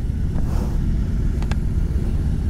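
A BMW R18 First Edition motorcycle being ridden, its engine giving a steady low rumble with a couple of brief higher-pitched blips over constant road and wind noise.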